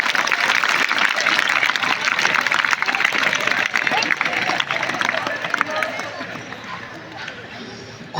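Audience applause at a road safety seminar, a dense, loud wash of clapping mixed with crowd murmur that gradually thins and fades toward the end.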